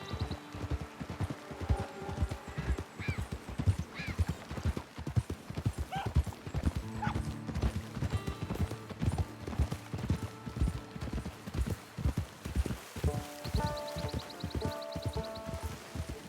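Horse hooves clip-clop in a steady walking rhythm in Red Dead Redemption 2, loud and close, joined by a brief whinny and game music tones. There is no talk.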